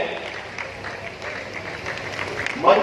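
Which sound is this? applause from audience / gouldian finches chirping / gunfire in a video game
applause from audience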